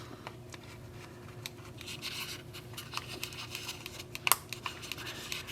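Scissors snipping through a broken plastic Infinity polydome, a series of scratchy, crinkly cuts that build to sharper, louder snaps near the end, close and without talk.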